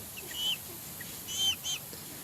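Small chicks and hens on a Turkish backyard farm give a few soft, high peeping clucks in short bursts, fairly close but quiet, with no talk over them.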